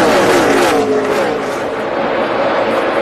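NASCAR stock cars lapping at Charlotte Motor Speedway in the 2011 Dollar General 300, a loud continuous engine roar with shifting pitch as cars sweep past off turn four, over steady crowd and track din.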